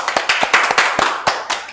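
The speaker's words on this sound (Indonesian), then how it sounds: "Beri tepukan kepada diri sendiri" A small class of students claps for themselves in a classroom, a brief close burst of quick, uneven hand claps lasting under two seconds.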